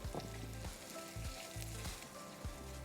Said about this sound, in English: And I'm going to stir until all rice is coated in oil.